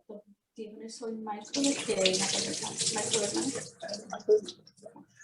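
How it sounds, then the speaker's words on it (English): Rice being rinsed in water in a kitchen, with a steady rush of running water and sloshing, close and fairly loud, as a voice speaks before and after it. "she's still rinsing the rice"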